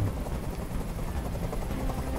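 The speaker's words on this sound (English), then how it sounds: "I can't stand that noise anymore. Tell that helicopter to get out of here." Helicopter noise in the video game Detroit: Become Human, a steady, loud rotor-and-engine drone filling the whole stretch with no break or speech over it.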